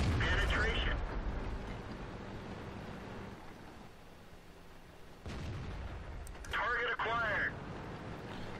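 A World of Tanks tank destroyer fires its gun. A heavy booming blast opens the sequence, another deep report follows midway, and the rumble fades in between under game voice lines and radio chatter.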